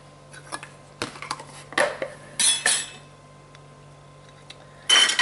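Shortening being cut into flour for a chicken pot pie crust: a utensil clinks and scrapes against the bowl in short, irregular bursts, fairly close, with quiet gaps between them and no talking.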